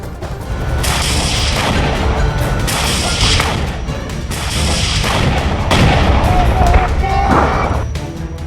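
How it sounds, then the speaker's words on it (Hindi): Hamas fighters fire grenade launchers at Israeli troops in a Gaza battle: loud booming blasts and rattling gunfire come in repeated heavy bursts, with a voice heard briefly amid the fighting. "हमास आतंकी ग्रेनेड लॉन्चर के साथ इजरायल की सेना पर हमला करते दिख रहे"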